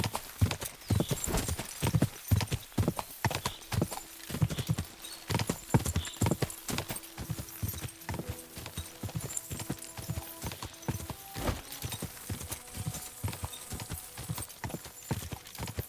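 Steady, fast hoofbeats of a galloping horse in a video game, loud and near throughout, with faint sustained tones beneath the drumming rhythm.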